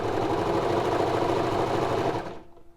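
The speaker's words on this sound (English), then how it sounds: "just lower the foot and sew a few stitches" A Baby Lock Victory sewing machine runs a few stitches, giving a fast, steady mechanical whirring close by that winds down and stops near the end.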